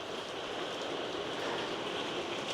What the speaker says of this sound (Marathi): बाहेरला जोर पाऊस पडतो